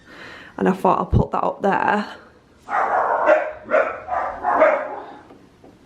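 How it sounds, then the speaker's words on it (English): Dogs barking indoors at home, a quick run of sharp close barks followed by a lower, muffled series of woofs, with someone talking over the first part. "Sorry about the dogs barking."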